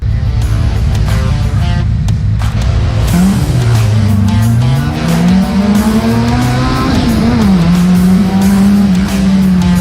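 Stock cars racing at Cowdenbeath Racewall, a loud, continuous roar of engines with rising and falling revs as the pack accelerates, close and dense throughout with no talk.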